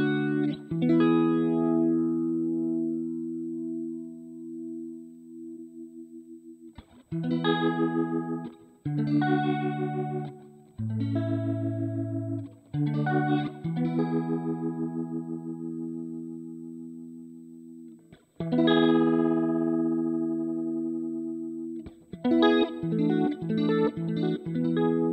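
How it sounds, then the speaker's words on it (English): Guitar runs through a bucket-brigade vibrato effect on a Sonicake Matribox 2 multi-effects unit, with warbling sustained notes and chords played in separate phrases broken by pauses, close and with no talking. "Based on a Bucket Brigade based blue vibrato pedal."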